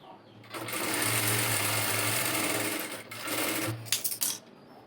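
An electric sewing machine stitches a side seam on a garment, a fast, even whirring run that lasts several seconds, pauses briefly, then resumes with a few short stop-start bursts.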